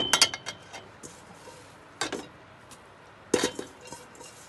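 Caldo verde soup being stirred in a pot with kitchen utensils: a few sharp clinks and scrapes of metal against the pot, in three brief bursts separated by quiet pauses, close and moderately loud with no talking.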